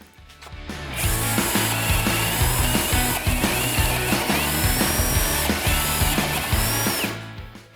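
A TAOE-CD35 cordless drill whirs loudly and steadily as it bores into wood, with a grinding, ratcheting texture that starts abruptly and stops after several seconds.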